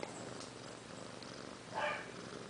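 A soft, steady cat purr rumbles close by, quiet and continuous, with a brief higher chirp partway through.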